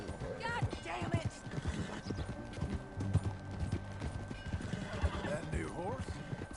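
A horse in Red Dead Redemption 2 gallops with rapid clip-clop hoofbeats and neighs several times, while people talk over the riding sounds.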